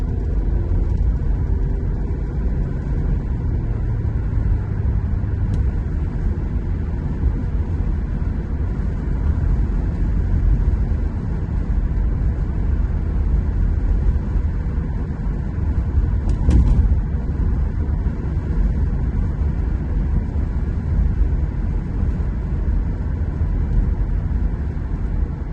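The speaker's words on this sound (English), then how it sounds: "you'll see how much road noise you can hear versus when we get the seal better sealed" Steady low road and wind rumble inside a 2005 Honda Odyssey minivan cruising at about 45 mph, a continuous drone with no talk and a brief bump near the middle.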